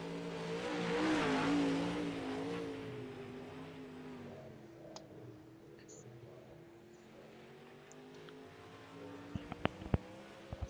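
A dirt track race car sponsored by Hendrick Motorsports drives around turns three and four at Barberville, Florida, its engine droning and surging in the distance, with a commentator talking over it and a few sharp clicks near the end.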